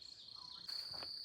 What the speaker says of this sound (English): listen to those crickets. Beautiful summer music to my ears.